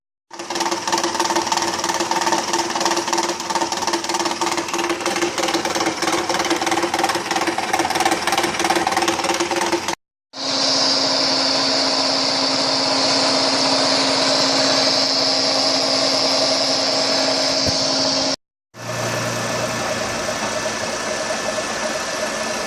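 A power drill clamped in a vise and spun as a makeshift lathe gives a steady high-pitched motor whine, cutting off briefly twice and restarting, with a faint grinding texture over the constant hum.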